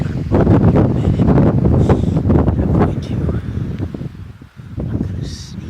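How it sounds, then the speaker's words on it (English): Strong wind buffets an open hillside during a mule deer archery hunt, roaring steadily into the microphone with heavy low rumble, easing slightly toward the end while someone talks quietly over it. "it is super, super windy"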